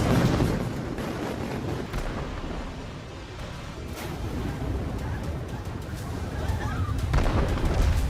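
Heavy bombardment in Beirut with explosions and artillery-like blasts, a dense continuous rumble of booms and bursts that swells near the start and again at the end, with some voices mixed in.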